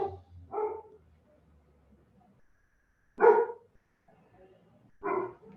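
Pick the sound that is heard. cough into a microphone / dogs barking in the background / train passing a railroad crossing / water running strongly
dogs barking in the background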